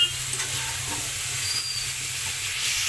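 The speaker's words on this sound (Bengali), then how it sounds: "এখন আমি এখানে আলুটা কষে নেব" Potatoes sauté in a hot pan over a home stove, giving a steady, close frying sizzle and hiss that holds evenly throughout, with faint scraping and stirring under it and no talking.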